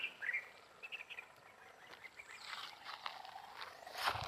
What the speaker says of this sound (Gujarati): પક્ષી તમને દેખાડું, પક્ષી આ રીતે બેઠા હોય છે જંગલમાં